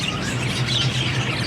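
Pet parakeets (keets) chirp steadily in their cage, a dense continuous twittering with a low hum running underneath.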